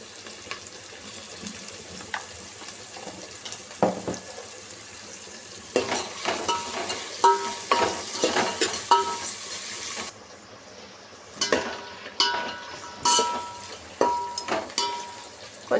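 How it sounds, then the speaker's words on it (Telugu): Peas and other ingredients, lightly salted, fry in a pan for a homemade chicken curry, a soft steady sizzle broken by repeated scraping spoon stirs and clinks, with a brief run of tap water partway through. "కొంచెం ఫ్రై చేసుకోవాలి. కొంచెం ఫ్రైలో కొంచెం లైట్గా ఉప్పు వేసుకుందాం."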